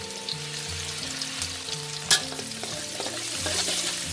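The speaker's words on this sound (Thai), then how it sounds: "หลังจากน้ำมันร้อนแล้วนะคะ ให้เพื่อนใส่ตะไคร้ค่ะลงไปทอดเลยค่ะ" Lemongrass fries in hot oil over medium heat, a close, continuous bubbling sizzle with light scraping and stirring clatter and one sharp clink partway through.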